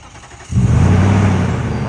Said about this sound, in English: let's check out the remote start